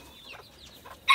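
Hens in a backyard coop shared with a single rooster give a few soft scattered clucks, ending in one louder, sharper squawk near the close.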